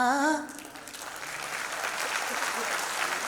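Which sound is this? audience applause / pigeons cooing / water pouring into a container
audience applause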